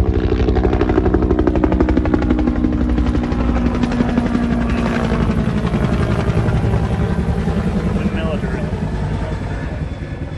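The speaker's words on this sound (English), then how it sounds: "there have been a lot more helicopters flying over this downtown DC area, and especially over my home here in downtown." Helicopters flying low over downtown Washington DC: a loud, continuous rotor thump with rapid chopping pulses and engine whine, dominating throughout and slowly easing toward the end.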